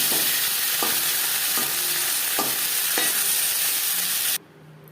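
Bay leaves sizzle in hot oil in a karahi, a steady bright frying hiss broken by a few rhythmic stirring scrapes before the sound cuts off abruptly near the end.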